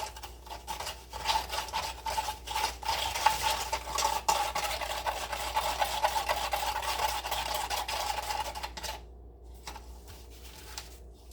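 Cement being stirred and mixed by hand for handmade vessels, a steady gritty scraping and rasping that keeps going for several seconds, then drops off sharply near the end into quieter sound.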